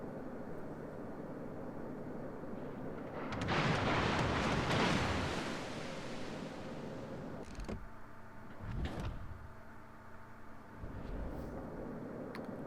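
Naval gunfire in World of Warships: a long loud rumbling blast of incoming shells from enemy battleships such as a Fuso, followed by two sharper booming shots and fainter impacts over a steady engine and sea drone, with no voices.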